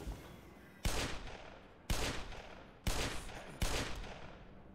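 Four heavy Magnum revolver shots in Black Mesa, each a sharp crack followed by a ringing tail, spaced about a second apart.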